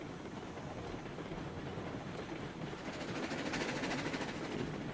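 A locomotive in the video game RailRoads Online rolls along with a steady rumble and rhythmic clickety-clack of wheels on rails, growing slightly louder toward the end.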